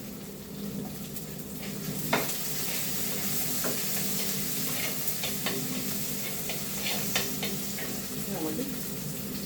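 Curry leaves dropped into hot oil for a Kerala-style country chicken curry, giving a continuous close sizzle and crackle with scattered sharp pops and light spatters.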